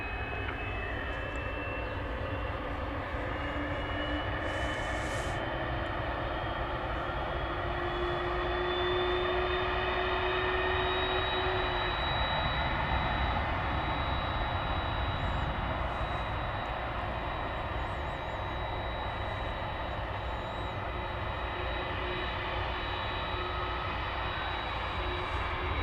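An American Airlines jet takes off at DFW Airport at night with a sustained engine roar and rising whine, heard from a distance and steady throughout.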